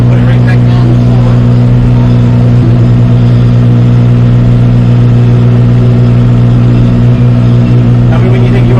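A tractor engine runs steadily while being driven, a loud, continuous mid-pitched drone with a strong hum that holds even throughout, close by and unbroken.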